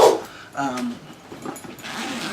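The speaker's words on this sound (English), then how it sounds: "dogs were going a bit nuts" Indoor dogs bark and whimper excitedly in short bursts, fairly close, with a person's voice mixed in.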